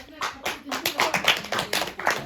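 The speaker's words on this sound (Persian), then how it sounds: "پس یک تشویق بدن برای دو خواهران" A small family group at an Eid celebration claps for two sisters, a brief burst of close, uneven hand claps with voices mixed in.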